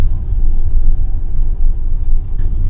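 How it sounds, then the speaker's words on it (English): A Winnebago eRV2 all-electric B-Class RV accelerates at full throttle. A loud, steady low rumble of road and drivetrain noise holds close throughout, with no clear engine tone. "I'm going to give it a little acceleration. So it's floored. It's kicking in now."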